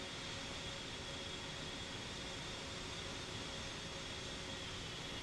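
Jet engines of a military aircraft running in the DCS World flight simulator, a steady, even roar with a faint high whine held for about five seconds, no voices over it.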